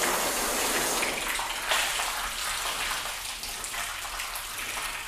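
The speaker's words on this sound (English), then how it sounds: "They're both sheeting the water before I can get them both completely flooded." Water from a hose gushes and sheets over car panels coated with spray sealant, a dense, steady hiss of splashing and running water that stays loud and close throughout with no voices.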